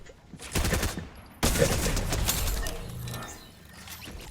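A combat SMG fires in Fortnite Chapter 4 Season 3, with quick rattling bursts of gunfire close by, a brief burst followed by a longer sustained spray that tapers off.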